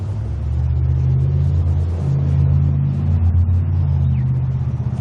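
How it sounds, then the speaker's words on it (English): A car climbs a hill near a rural homestead, its engine a steady low rumble that rises slightly in pitch as it labors upward, close and continuous with no talk. "Car going up the hill here."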